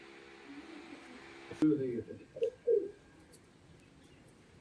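Giribaz pigeons give soft, close coos in a few short bursts after a sharp knock. A low hum runs steadily underneath.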